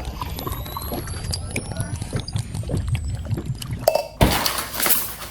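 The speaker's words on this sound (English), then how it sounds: "I just dropped a bunch of ice on the floor" A handful of ice cubes spills onto a kitchen floor while coffee is being made with creamer. Quiet kitchen clatter comes first, then a sudden, loud, scattered clinking burst near the end.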